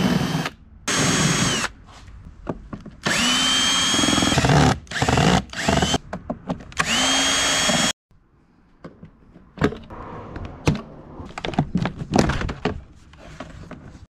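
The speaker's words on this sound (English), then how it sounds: "I'm going to get set up and get those Phillips head screws out" A power drill backs Phillips head screws out of an interior panel on a Mercedes W140 S-Class, running in several loud bursts of whirring, then stopping for clicks, clunks and handling noises.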